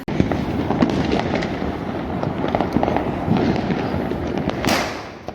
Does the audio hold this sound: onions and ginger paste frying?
no